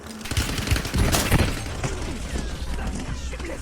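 Gunfire in Call of Duty: Warzone, dense rattling bursts and sharp cracks packed together over a constant loud battlefield roar, with muffled game voices underneath.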